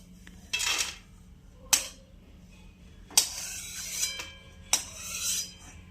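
Fried cashews and almonds being scooped from ghee onto a plate while making gajar halwa, with four distinct metal scrapes and clinks of a spoon against a pan, each followed by brief rattling, close and clear with no talk.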